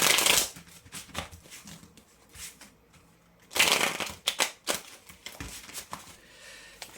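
Tarot cards being shuffled in bursts of papery riffling and flicking, with a louder flurry at the start and another around the middle, separated by quieter handling.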